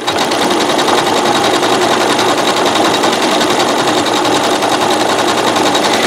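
A sewing machine runs steadily, closely stitching a mosaic rope bowl with a tight decorative stitch, producing a continuous loud, fast mechanical whirring hum without pause for several seconds.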